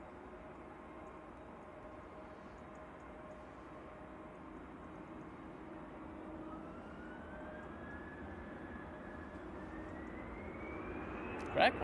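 An airliner departing Manchester Airport for Barcelona produces a steady distant engine roar that slowly rises in pitch as it climbs away, with a voice talking faintly and a brief sharp noise near the end.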